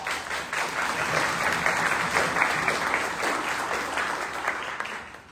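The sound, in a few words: audience applause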